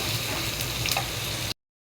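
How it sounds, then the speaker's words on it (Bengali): Chopped onions crackle and sizzle in hot oil in a frying pan, a dense, close hiss with a faint clink of utensils before it cuts off abruptly. "এখন দিয়ে দিচ্ছি কুচি করে রাখা পেঁয়াজ। পেঁয়াজটা একটু লাল লাল করে সুন্দর করে ভেজে নেব।"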